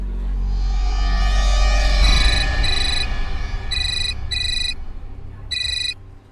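A telephone rings in a Hindi crime-drama scene: loud electronic trills arrive in repeated paired bursts over a low rumbling music bed, then stop.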